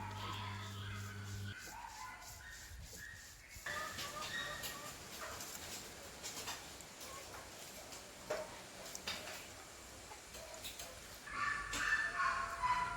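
Dogs bark faintly in the background among quiet outdoor ambience, with a few soft clicks and voices talking now and then.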